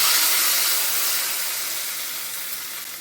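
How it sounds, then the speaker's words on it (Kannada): Hot tempering with curry leaves poured into a field bean (avarekalu) curry, giving a steady, close hiss and sizzle that slowly fades over a few seconds with no talking. "ಗಸಿಗೆ ಈಗ ಒಗ್ಗರಣೆ ಹಾಕಿದೆ ನಾನು"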